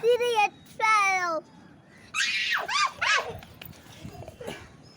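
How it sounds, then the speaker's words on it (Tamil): A dog whines twice in high, drawn-out cries, then a voice and other talk follow. "வருது, அந்த நாய் வருது"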